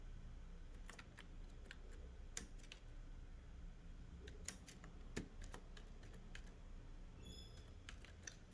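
Typing on a computer keyboard while working in MS Word produces irregular, quiet key clicks over a soft steady background hum.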